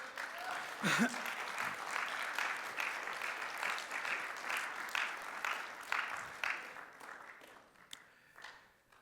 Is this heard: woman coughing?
no